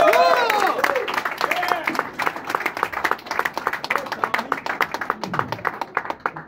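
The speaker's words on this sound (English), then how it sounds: "please give a round of applause for Mr." Open-mic comedy crowd in a bar claps for a comedian taking the stage, steady applause with a few cheers at first, thinning into scattered separate claps near the end.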